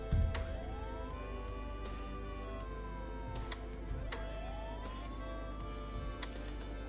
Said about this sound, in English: Boop, boop. Sirens.